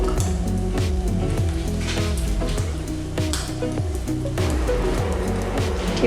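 French toast, bread soaked in egg mixture, sizzles in a pan with a steady frying hiss, punctuated by repeated gentle popping sounds throughout.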